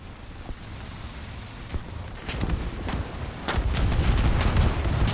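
Tank cannon fire in War Thunder, a few heavy booming shots with a rumbling engine and battlefield noise underneath, growing louder and denser toward the end.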